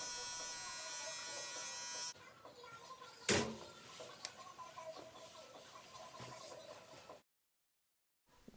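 Electric hair clippers buzz steadily as the back of a low bald taper haircut is lined up, then switch off, leaving faint ticks and handling noises before a brief silence.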